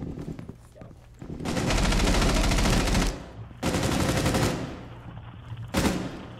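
Automatic gunfire in the Rainbow Six Siege video game on the Nighthaven Labs map: loud, sustained bursts, one long and one medium, then a brief final burst, with quieter game noise in the gaps.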